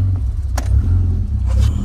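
A 20th anniversary Volkswagen GTI with the 1.8T engine idling roughly, a close, loud low rumble with slight uneven pulsing and a couple of brief sharper clicks.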